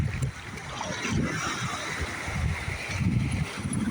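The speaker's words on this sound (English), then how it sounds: "Here comes the waves." Ocean waves break and surge at a beach in uneven rolling washes, rising again near the end, with steady wind buffeting the microphone throughout.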